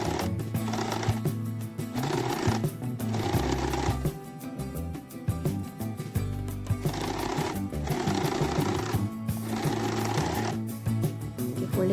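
A sewing machine stitches along the folded side of fabric for a homemade bag, running in loud, rapid bursts of a few seconds each, broken by short pauses, with its motor hum and needle clatter close by.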